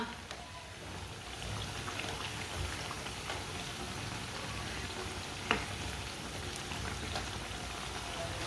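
Kebabs frying in a pan on a stove, a steady soft sizzle and crackle of hot oil running throughout at low volume, with one small sharp pop partway through.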